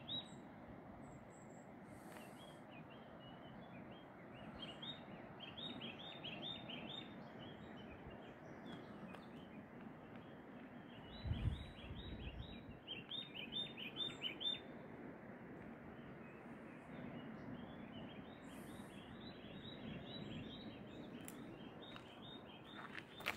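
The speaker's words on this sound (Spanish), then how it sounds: "A ver si somos capaces de escuchar los diferentes pájaros que hay." Wild birds along the Portuguese Camino de Santiago chirp in repeated short bursts, moderately near and distinct above a steady outdoor hiss, with a brief low rumble partway through.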